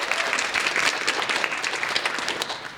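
Audience applauding a Foley artist during a live radio-hour stage show, a dense, steady wash of many hands clapping close and loud throughout, with no talk over it.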